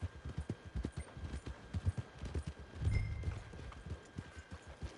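Horse hooves clip-clop at a steady walking rhythm in Red Dead Redemption 2, close and fairly loud, with a brief louder scuffle midway.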